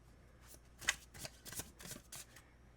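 Tarot cards shuffled by hand in quick, soft riffling bursts, a handful of brief papery flutters and slaps, close and quiet with no talk.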